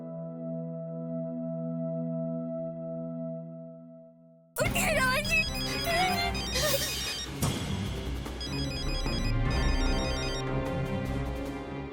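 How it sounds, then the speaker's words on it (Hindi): A tonal ringtone-like melody plays steadily for about four seconds, then cuts to a loud, busy burst of clattering music and sound effects. "रोहन को फोन करके बताना पड़ेगा अभी।"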